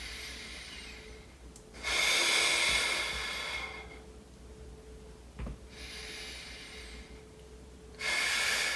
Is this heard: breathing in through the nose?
yes